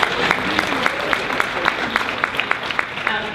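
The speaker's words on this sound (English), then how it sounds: "give him a round of applause" An audience applauds a speaker introduced at a keynote panel of a social justice education fair, with sharp individual claps standing out in a steady round of clapping.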